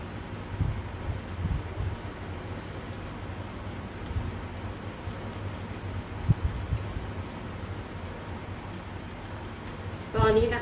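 Steady rain falling on a rainy day, a continuous soft hiss with a few louder taps and bumps, moderately close and unbroken.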